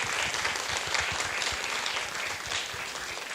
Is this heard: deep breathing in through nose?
no